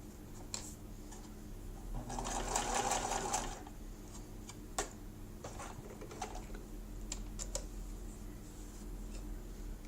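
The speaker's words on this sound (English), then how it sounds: "This is a zigzag stitch." A Brother VX-1010 sewing machine runs a zigzag stitch in one short burst of rapid needle chatter, then falls back to soft clicks and ticks, all quiet and close.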